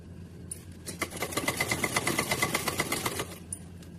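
An electric sewing machine stitching lace onto a small doll's dress, a fast rhythmic mechanical whir with even needle ticks running for about three seconds before stopping, close and clear with no talk.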